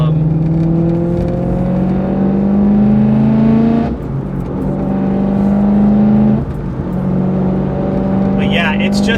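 A BMW E92 M3 with its S65 V8 and Evolve Stage 2 tune drives along, engine note rising steadily through the gears with two clear shift breaks, loud and close from inside the car.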